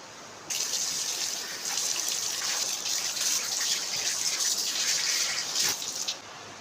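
Water runs steadily from a tap while homemade face cream is rinsed off, a continuous close splashing gush that starts abruptly and fades out near the end, with no voices.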